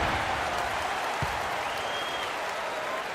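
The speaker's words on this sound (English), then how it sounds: "That shot eliciting a roar from this gigantic crowd." Huge arena crowd in the NBA 2K15 basketball video game roaring and applauding after a big shot, a loud, steady wash of cheering that holds unbroken throughout.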